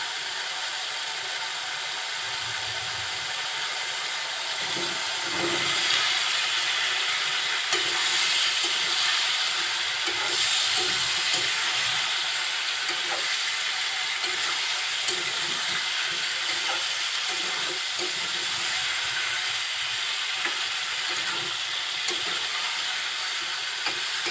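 Bottle gourd and potato sizzle in fried spice paste while a spoon stirs through them, a steady hiss from the pan broken by scraping and clinking strokes.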